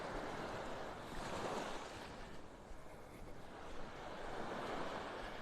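Ocean waves washing onto Pelican Bay Beach in North Naples, Florida as the tide comes in, a soft, steady surf hiss with gentle swells and light wind, no talking.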